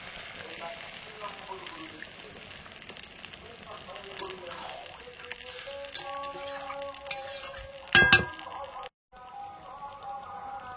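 Lote fish stirred and fried with spices in a pan gives a soft sizzle with scraping stirs and utensil clinks, overlaid by a voice. A sharp loud clatter comes near the end.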